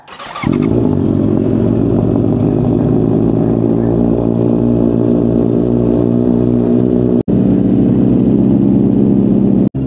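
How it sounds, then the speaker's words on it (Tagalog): Two sport bikes, a Honda CBR650R and a Kawasaki ZX-6R, cold start together: after a brief cranking moment both engines catch and settle into a loud, steady combined idle that runs nearly unbroken, with a short cut near the end. "cold start ng CBR 650R at CX6R"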